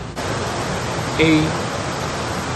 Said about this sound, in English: It's actually a series of waterfalls, one right after the other, and some rapids